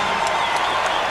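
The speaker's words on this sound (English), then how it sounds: "You'll hear the crowd react to this." Arena crowd at an NBA playoff basketball game reacting to a foul call, a dense, steady roar of cheers and clapping throughout with no break.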